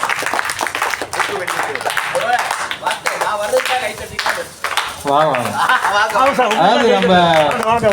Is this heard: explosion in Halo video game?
no